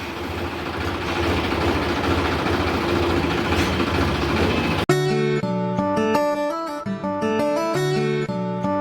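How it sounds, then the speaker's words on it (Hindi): A garbage collection tractor idles nearby with a steady low engine rumble, then music suddenly cuts in over it halfway through. "ये देखिए यहाँ पे हमारे ट्रैक्टर आता है गार्बेज लेने के लिए।"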